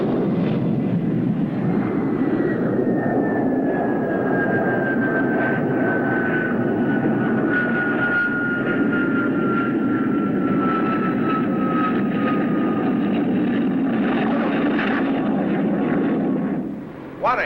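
A 1951-era airplane engine roars loud and steady in flight, a continuous drone with a slowly falling whine running through it from start to finish, no voices over it.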